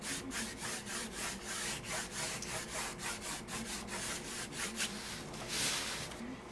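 Brush rubbing white paint across a painted banner, a steady scratchy scrubbing with rhythmic back-and-forth strokes, close and fairly soft, with no talking.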